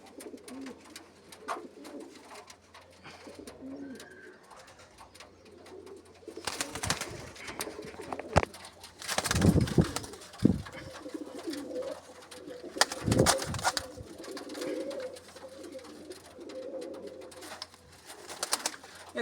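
Four female pigeons coo softly and repeatedly at close range, with occasional rustling and bumps breaking through.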